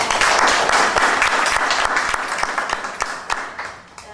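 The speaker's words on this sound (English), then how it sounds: "we all give a round of applause for all of them" An audience at a Green School Q&A session in Sepang gives a round of applause, many hands clapping densely and loudly at first, then gradually thinning and fading toward the end.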